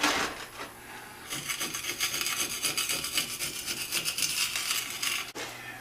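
A tool shaves down the edge of a home-made concrete dumbbell that cured four days, giving close, continuous gritty rasping strokes in a quick rhythm.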